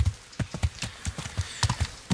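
Horse hooves clip-clopping in the video game Kingdom Come Deliverance, a quick, regular series of close, thudding knocks at a brisk riding pace with no talking.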